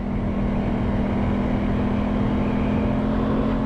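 Steady engine drone from an Aprilia Tuono 660 Factory motorcycle on the move, a constant near hum with a fixed tone running through the whole stretch, no speech over it.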